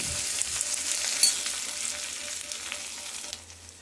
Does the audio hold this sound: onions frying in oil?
yes